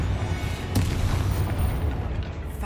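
A Confringo blasting curse in Hogwarts Legacy detonates with a deep, rumbling boom, followed by a sustained low roar of the blast fading out, with no talking over it.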